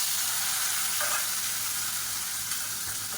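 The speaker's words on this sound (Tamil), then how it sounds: "உருளைக்கிழங்கு சேர்த்துட்டு ஒரு 2 நிமிஷம் நல்லா சுருண்டு வர அளவுக்கு வறுத்துக்கலாம்" Boiled potatoes frying in hot oil with garlic in a pan, a steady bright sizzle that holds evenly throughout at close range, with no talking.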